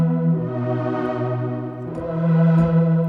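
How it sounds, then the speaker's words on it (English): Sad Strings preset on a DSI Pro 2 synthesizer plays sustained, rich string-like chords that swell and shift, loud and alone with no talking. "I found this preset called Sad Strings, which sounds like this."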